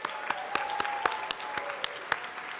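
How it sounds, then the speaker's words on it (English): Scattered clapping at a Capitol summit dinner with the Jewish Caucus, a modest room of guests applauding Assembly members with sharp individual claps standing out over a soft, steady patter. "Hand of applause to the Assembly members"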